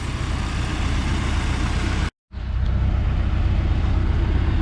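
A car engine idling to warm up after a head gasket repair, a steady low rumble close to the mic, broken by a brief silent gap in the middle.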